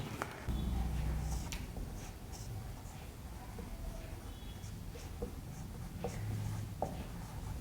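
A teacher writes chemistry notes during a lesson on haloarenes, with faint, scattered scratching strokes and taps running quietly through a low room hum and a few soft knocks.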